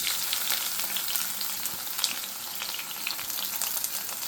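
Fenugreek seeds, shallots and onion frying in oil for a Travancore fish curry, a dense, even crackling sizzle heard up close with light stirring and no voices.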